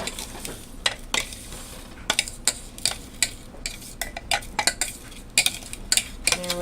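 Mashed graham cracker crumbs for a cheesecake cupcake crust being tipped into a bowl, with scattered clinks and scraping taps of utensils against the dish, close and uneven.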